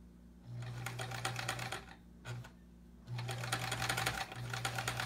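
Sewing machine stitching quilt-along sampler pieces, in two bursts of fast even needle chatter with a motor hum, separated by a short pause and a brief spurt, close and moderately quiet with no talk.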